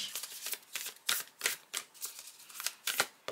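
Tarot cards are shuffled by hand in quick, crisp riffling flurries, close and moderately quiet, repeating in an uneven rhythm with no voices.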